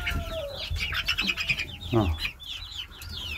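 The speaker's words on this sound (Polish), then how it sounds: "Najpiękniejszy kogucik." A young rooster among a flock of chickens clucks and calls, with bird chirps and wing flaps nearby, all under a person talking.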